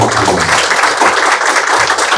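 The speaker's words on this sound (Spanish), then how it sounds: "Recibimos con un fuerte aplauso" A lecture audience gives a short burst of welcoming applause for a speaker, dense and close clapping that holds steady for a couple of seconds with no talk over it.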